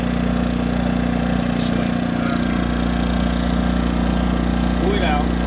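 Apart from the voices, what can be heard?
Yamaha inverter generator engine starting and idling after pull-start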